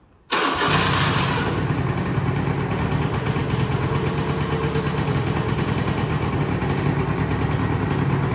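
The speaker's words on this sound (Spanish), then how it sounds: "le doy al contacto, y esta moto arranca, como decía, a pedal y a botón. Vamos con el botón." A Gilera Runner 180 two-stroke scooter is started with its electric button, catching after a brief crank and settling into a loud, close, steady idle that continues without talk.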